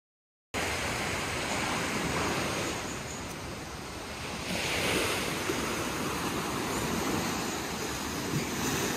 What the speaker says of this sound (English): the waves are really, really strong right now